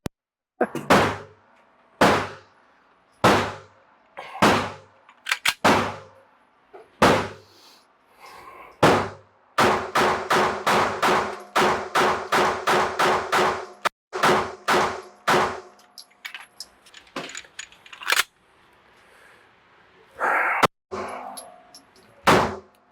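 A Langdon Tactical HK P30 LEM pistol fires many loud, close shots. At first they come singly at steady intervals, then in a fast run of rapid shots, then in a few scattered final shots, with no talking.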